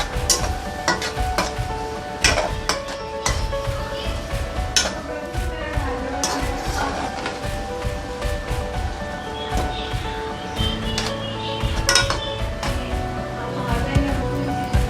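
Chicken chili gets stir-fried with oyster sauce in a pan, with steady sizzling and frequent clinks and scrapes of a utensil against the metal, busy and close throughout.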